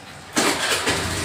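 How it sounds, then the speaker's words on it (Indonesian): Motorcycle engine cranked by its electric starter after a fuse repair, a short whirring crank that catches and settles into a steady running note, close and fairly loud with no voices. "motor bisa di starter kembali"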